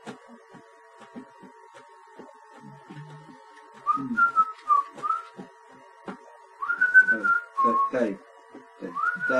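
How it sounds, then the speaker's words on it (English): A person whistles a few short, wavering melodic phrases, quiet and close, between soft clicks and rustles in a quiet room, growing slightly louder toward the end. "You're whistling again."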